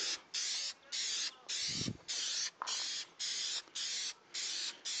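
An aerosol can sprays black paint onto a Ford Expedition grill in ten short, even bursts, each hiss lasting about a third of a second with brief pauses between, close and fairly quiet.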